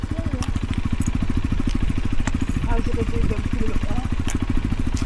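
A motorcycle engine idles close by with a steady, rapid putter, running continuously at an even loudness.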